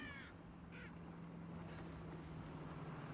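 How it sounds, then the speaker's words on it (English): Crows cawing in the video game Driver: San Francisco, a couple of harsh caws at the start followed by fainter calls under a steady engine-like drone. "Lots of crows in this game."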